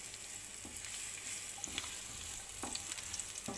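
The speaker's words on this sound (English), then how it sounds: "in some hot oil, I'm going to throw my onions" Onions crackle and sizzle as they are stirred in hot oil, a steady close hiss with brief scraping taps of a utensil, no talking.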